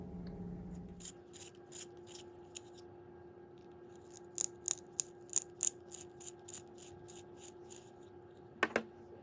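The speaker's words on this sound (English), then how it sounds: "Just showing you how smooth these are to sharpen." Arrtx wooden sketching pencils with B-grade leads turned in a sharpener, producing a series of close, crisp rhythmic clicks and scrapes over a quiet room, ending with a brief louder burst.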